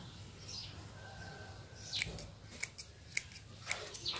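Freshly sharpened scissors snip close by in a quiet room, making several crisp, sharp cuts at irregular intervals in the latter half, with no talking.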